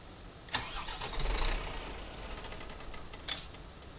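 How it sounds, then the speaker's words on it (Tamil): An old KSRTC bus engine being cranked and failing to start, a steady grinding churn with two sharp clunks near the start and end. "ம் வண்டி ஸ்டார்ட் ஆக மாட்டேங்குது"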